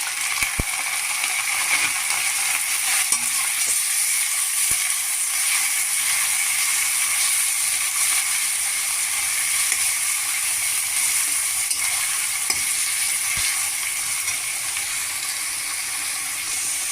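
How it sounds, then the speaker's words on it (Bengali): Onions, bay leaves, cumin seeds and dry red chillies frying in hot oil for radhuni chicken, a steady close hiss of sizzling with faint occasional clicks, continuous and even with no voices. "এখন আমি 1 চা চামচ জিরে আর কয়েকটা শুকনো লঙ্কা দিলাম ফোড়নে। আর আমি 4টে পেঁয়াজ কুচিয়ে রেখেছি, পেঁয়াজ আর তেজপাতা দিয়ে দিলাম।"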